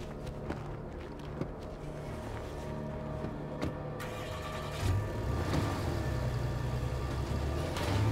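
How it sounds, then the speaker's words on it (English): A military truck engine starts up in the video game State of Decay 2, with a low rumble swelling in midway and then holding steady as an idle. Earlier there are scattered mechanical clicks and thumps. "Now we got a military truck."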